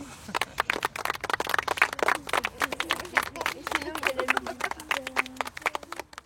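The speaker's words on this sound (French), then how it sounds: "Merci, vous pouvez vous applaudir." Outdoors in a wetland area, a small group claps for themselves, a sparse, uneven patter of individual hand claps close by, with voices chattering over and between the claps.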